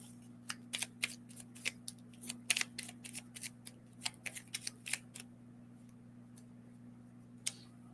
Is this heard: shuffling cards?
yes